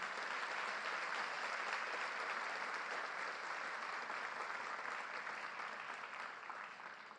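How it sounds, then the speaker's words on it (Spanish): A church congregation claps together in steady, even applause, a dense wash of hands that holds for several seconds and slowly fades slightly, heard at a moderate distance with no voices over it. "den un aplauso al Señor Chilo."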